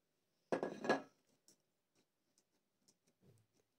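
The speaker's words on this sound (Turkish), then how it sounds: "şimdi patatesimi süzüyorum" Grated potatoes for homemade freezer meatballs pressed and strained with a spatula: a short, close burst of wet scraping and squelching, then sparse light clicks and taps of the utensil against the bowl.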